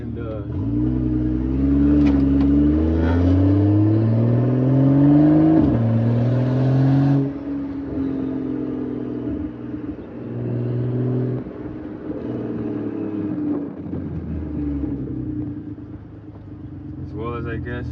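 A 2012 BMW 135i engine with its AC pulley deleted revs up and down close to the microphone, the pitch rising and falling in several sweeps before settling to a steadier idle-like drone, with talk over parts of it.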